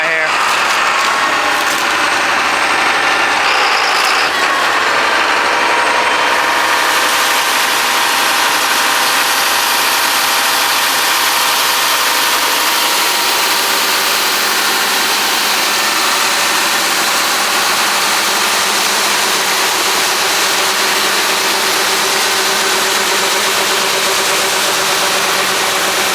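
A John Deere 8300 tractor idling during a corn harvest, its engine a loud, steady, close rumble with broad noise that holds throughout.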